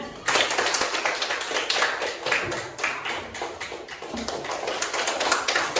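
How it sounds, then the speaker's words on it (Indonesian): A group of students claps hands during a Simon Says game in a classroom, a quick, uneven patter of many claps sustained for several seconds with no talking. "Simon berkata tepuk tangan."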